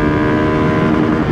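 A motorcycle engine with track-bike camshaft timing roars close and loud at high revs, a sustained buzzing tone that holds nearly steady with no speech over it.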